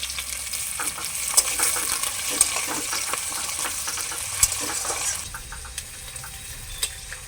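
Chopped green chillies and onions fry in a pan, a continuous bright sizzle with stirring scrapes and a few sharp clinks, fairly close and steady before easing near the end.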